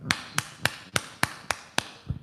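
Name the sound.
hand clapping demonstration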